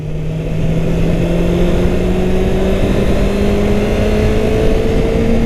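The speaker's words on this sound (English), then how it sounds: "I'm going to shift into third here" A Kawasaki Ninja 636 motorcycle engine drones steadily up close, its pitch climbing slowly and evenly as it pulls through third gear, with heavy wind rumble underneath.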